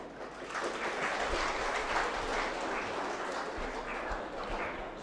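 Steady, dense applause from a seated audience at a public talk, continuous and evenly loud for several seconds with no speech over it.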